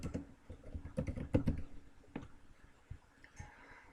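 Keys on a computer keyboard are typed in a quick, uneven burst of close, crisp clicks while text is entered into a PowerPoint slide, thinning to a few scattered taps near the end.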